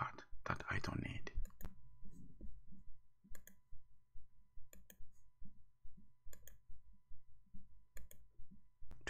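Computer mouse clicking during design work on a computer, a soft regular series of sharp clicks, about a dozen evenly spaced, close and quiet, after a brief burst of noise at the start.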